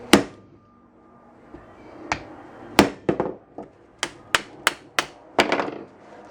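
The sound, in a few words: hammer striking Datsun 521 ball joint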